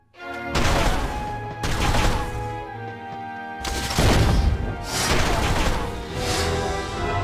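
Video game gunfire erupts in loud, dense volleys, several sustained bursts of shots and crashing impacts separated by brief pauses, with no talk over them.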